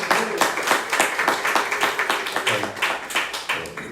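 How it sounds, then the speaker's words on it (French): Scattered audience clapping inside a church, irregular claps from a modest congregation mixed with some voices and murmuring throughout. "On peut applaudir quand même"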